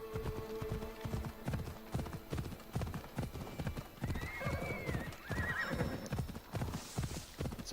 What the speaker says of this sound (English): So horses are running away from something.